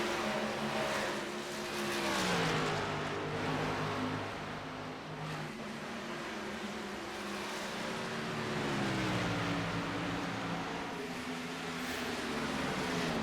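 Race car engines in a racing video game roar steadily through a race, with several cars' tones rising and falling as gears shift and rivals pass, a loud, dense, continuous drone without speech.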